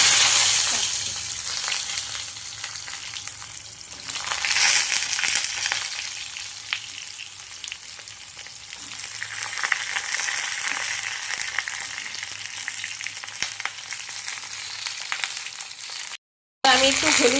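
Eggplant and potato pieces fry in hot oil for a fish curry, giving a steady, loud sizzle that swells and eases throughout, with faint low hum beneath and a brief dropout near the end.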